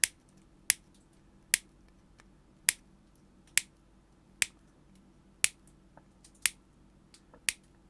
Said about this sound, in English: So I'm just going to chop them off just to see.